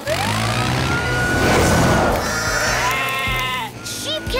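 Cartoon sheep bleating over an animated scene with a busy music score, wavering bleats coming close and loud amid layered effects and a siren-like wail.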